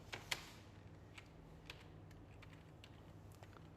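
A few sparse, faint keystrokes on a computer keyboard while text is typed into Photoshop, with a soft louder click near the start over a quiet room hum.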